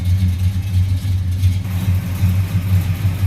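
The 455 V8 of a 1970 Oldsmobile Cutlass idles steadily up close, a deep, even rumble with a smooth rhythmic throb and no voices.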